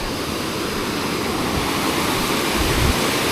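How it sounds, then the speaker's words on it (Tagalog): A strong river current rushes in a steady, loud, broadband roar with no break, heard close and alone, with a couple of low thumps near the end. "Lakas ng agos ng ilog."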